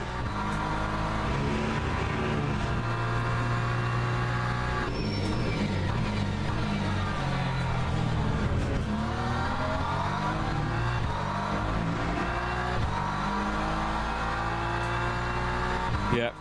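Porsche race car engine in the Le Mans Ultimate racing game, a sustained loud drone with harmonic whine rising and falling through gear changes, continuous over the whole stretch with other cars passing.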